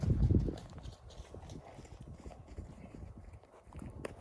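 Stallion Raut, a Novooleksandrivsk-bred horse from the Dibrivka stud, hooves clip-clopping in a steady walking rhythm, with a louder thump at the start and moderately close, low-level footfalls throughout.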